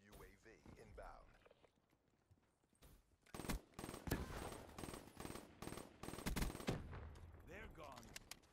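Rapid pistol gunfire in a multiplayer shooter video game, repeated bursts of shots crackling loudly in the middle stretch amid game effects, with a player talking over it.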